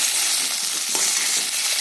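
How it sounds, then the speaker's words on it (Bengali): Eggplant frying in hot oil gives off a steady, close hiss with soft crackles throughout, no voices over it. "বেগুনটা আমি এবারে তেল থেকে তুলে নেবো"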